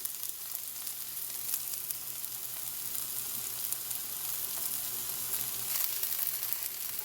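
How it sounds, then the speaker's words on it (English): Red onions hitting a hot pot and sizzling steadily, a soft continuous hiss with a faint frying crackle, low and even throughout, no talking. "Our pot is hot, okay? So now what we'll do, I'll start with my onions."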